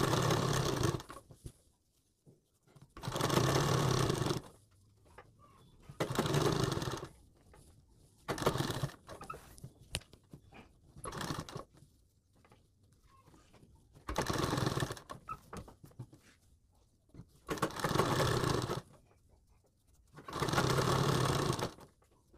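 A sewing machine stitches piping beside a kurti neckline in several separate bursts of steady whirring, each lasting one to two seconds, with quiet pauses between them. The machine is close and there is no talk.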